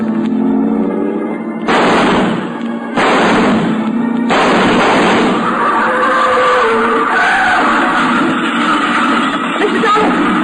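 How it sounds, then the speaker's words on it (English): Radio drama sound effect of a car pulling away from a house: loud engine roar with harsh screeching tire skids, broken by short gaps, then sustained revving as it speeds off. "I ran out to the drive and spotted the car pulling away about 50 yards from the house."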